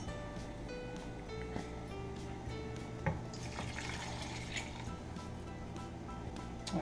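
Water pours into a pot holding a can of diced tomatoes for shrimp, tomato and basil pasta, a steady splashing run lasting several seconds with a brief clunk midway.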